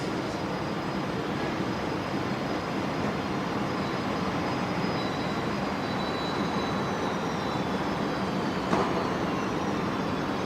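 Qantas Airbus A330 airliner in oneworld livery at Brisbane Airport at night, departing as flight QF15 to Los Angeles, giving a steady, continuous engine roar with a faint high whine running through it.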